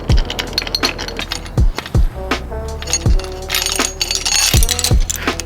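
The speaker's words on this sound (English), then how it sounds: "We're gonna take that washer off because we don't need it" Metal washer and spacer on a BMX axle clinking in a series of close, sharp metallic taps and rattles, with short pauses between them and no voices.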